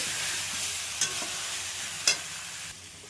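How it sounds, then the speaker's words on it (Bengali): Pointed gourd slices stirred and fried in spice paste for a prawn and pointed gourd curry, a steady soft sizzle broken by two sharp scraping stir strokes, close and alone with no talk. "পটলগুলো দিয়ে দিয়েছি, ভালো করে পটল দিয়ে কষে নেব।"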